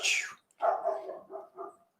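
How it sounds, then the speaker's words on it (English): A dog barking somewhere nearby, one sharp bark followed by a few rougher, lower barks in quick succession, moderately loud, with no talking. "I hear some dog"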